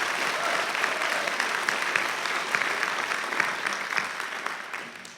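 Graduation ceremony audience applauding after a speaker, steady crowd clapping at moderate distance that holds for about five seconds before tapering off.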